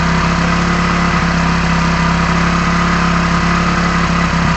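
A car engine runs steadily at high revs above 4000 rpm, a loud, even, unbroken drone with a constant pitch and no voices.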